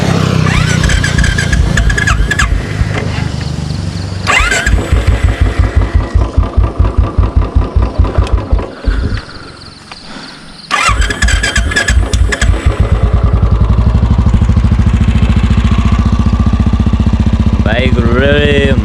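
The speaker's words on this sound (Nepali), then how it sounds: "bike start ready" A motorcycle engine cranks and catches, then idles with a steady, close, loud throb, cutting out briefly before running on; a voice speaks over it.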